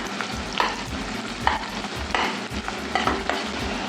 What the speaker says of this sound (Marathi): आता आपण लसूण बारीक कापलेलं ते टाकून घेऊया, बारीक चिरलेला कांदा,